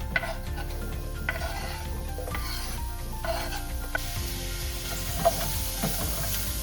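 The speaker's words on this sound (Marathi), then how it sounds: "रवा जरासा तापला की त्याच्यामध्ये आपण कांदा टाकून घेऊया" Chopped onion dropped into a hot pan of dry-roasting semolina, a soft low sizzle with scraping stirs and a few sharp clicks of the spoon, fairly quiet and close, no talk.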